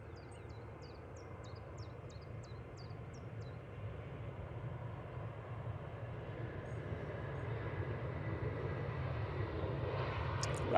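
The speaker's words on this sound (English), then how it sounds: "Ryanair 737-800 now departing." A Ryanair Boeing 737-800 departs Manchester Airport, its engine roar a broad steady rumble that slowly swells in loudness over the clip, with faint bird chirps early on.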